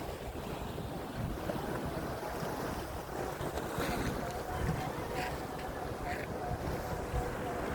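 Rough sea by a seawall, with waves washing steadily and wind buffeting the microphone in a continuous loud roar, with no pauses.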